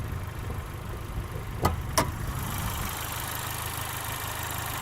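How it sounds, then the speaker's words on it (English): A Honda Civic Type R's 2-liter turbo engine idles with a steady low rumble, heard up close. Two brief clicks break in partway through, and no one speaks. "Let's take a look under the hood at this 2-liter turbo"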